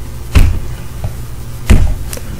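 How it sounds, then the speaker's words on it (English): Two dull, heavy thumps of a hand striking a wooden dresser, about a second apart, fairly close and loud. "That was me hitting against my desk"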